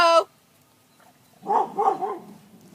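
A dog gives a short, fairly close double bark after a quiet pause, with a brief sharp sound at the start.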